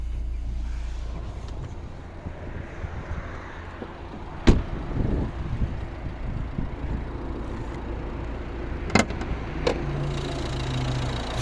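Idling 1.6-litre D2 diesel engine of a 2011 Volvo V60, a steady low rumble heard up close with a few sharp clicks and knocks over it and no talking.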